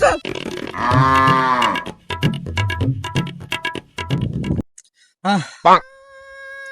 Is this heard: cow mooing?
yes